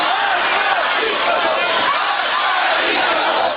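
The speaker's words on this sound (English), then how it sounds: "Iranians at a funeral of a reform-minded cleric in Isfahan earlier this month chanting" At a funeral for a reform-minded cleric in Isfahan, Iran, a large crowd chants continuously in unison, loud and dense, with waves of massed voices.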